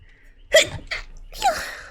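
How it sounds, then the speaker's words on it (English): A single sharp sneeze bursts out close to the microphone, followed by a few breathy, voiced sounds in a quiet room. "Why I have to sneeze?"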